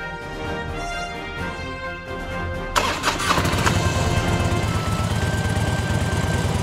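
A small toy ATV motor buzzes steadily, then revs up sharply and keeps running louder with a raspy, high-pitched whine, close by and alone.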